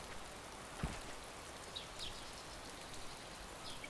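Soft, steady rainfall hissing in a video game, faint and constant, with one brief louder tap near the start and no voices.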